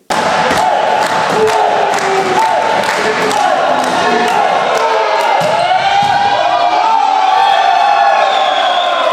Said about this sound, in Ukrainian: Присутні глядачі як могли підтримували своїх фаворитів оваціями та оплесками